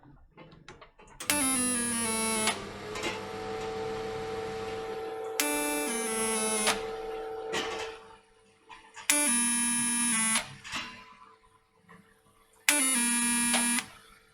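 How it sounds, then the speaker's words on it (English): Tack welding a metal tub panel for a DIY tub kit: four separate buzzing welding bursts, each lasting one to two seconds, with short quiet pauses between them, close and fairly loud. "I'll use the leverage of that to hold the panel in place as I tack weld it"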